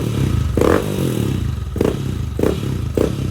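A stock Yamaha NMAX B2 scooter engine runs at a quiet, even idle close by, with a few short blips and clattering thumps breaking the steady drone.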